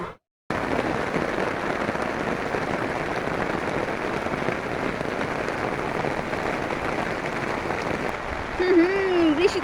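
Steady rain pattering on a flooded water lily wetland, a dense broadband hiss running nearly throughout, with a brief voice-like tone near the end.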